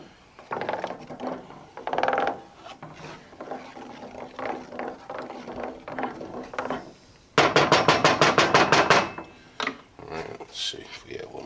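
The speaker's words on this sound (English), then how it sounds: "Let's give it a little mix." Dish soap and baking soda being stirred into a greasy, burnt pan, heard as close, intermittent scraping and rubbing, ending in a loud burst of rapid, rhythmic scrapes.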